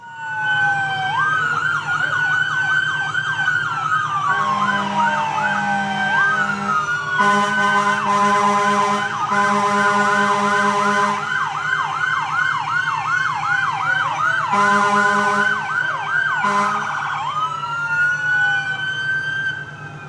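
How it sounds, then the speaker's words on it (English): Several emergency sirens wail together, loud and sustained, with rising and falling tones overlapping throughout and a low engine rumble beneath. "Please go ahead and turn your sirens and lights on."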